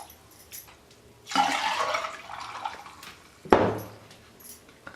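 Water for litchi juice is poured into a blender in two separate splashing bursts, the first a sustained pour of about two seconds and the second shorter and sharper, close by with quiet gaps between.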